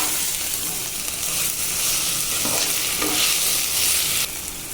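Ginger garlic paste sautéing in a pan for tomato rice, stirred steadily with a spoon, giving a continuous close sizzle with scraping strokes and no voices.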